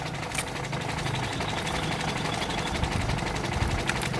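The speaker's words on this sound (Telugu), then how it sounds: "ఇంజిన్ ఆయిల్ కూడా బాగుంది, చాలా స్మూత్గా ఉంది సార్ ఇంజిన్." A used 2011 Toyota Liva V petrol car idling, with a steady mid-pitched engine hum and fine rhythmic ticking, heard up close and fairly even throughout.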